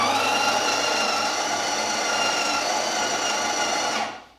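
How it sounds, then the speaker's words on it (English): A DeLonghi La Specialista Arte espresso machine's built-in grinder whirs steadily for about four seconds grinding coffee, loud and close, then spins down and stops. "I'm going to lower the dose to the minimum and just grind some just to throw out."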